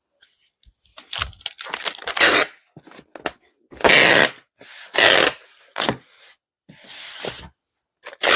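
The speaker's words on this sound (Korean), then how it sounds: "자, 테이프 한번 붙여 보겠습니다." Packing tape pulled from a roll and pressed onto a parcel that holds a plant: a series of loud, raspy tearing strips in short bursts, separated by brief silences.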